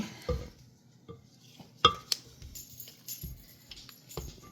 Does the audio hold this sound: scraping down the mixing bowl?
yes